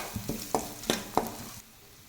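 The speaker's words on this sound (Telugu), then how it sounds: "ఇది కూడా పచ్చి వాసన పోయే వరకు వేగనివ్వాలి" Pounded green chili paste frying in a pan for tamarind rice, with four quick rhythmic stirring scrapes over a soft, close sizzle that then fades.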